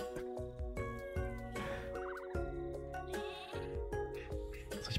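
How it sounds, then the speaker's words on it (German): Sheep bleating in the video game Miniland, several short nasal bleats popping over looping game music and blocky sound effects, fairly quiet throughout. "Kommt rein, Schafe."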